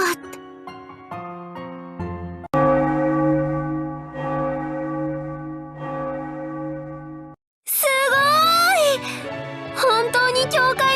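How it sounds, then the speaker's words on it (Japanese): A church bell rings in a video game event scene, a series of clear sustained chiming tones layered over one another for several seconds before a voice begins speaking. "本当に教会の鐘が鳴って"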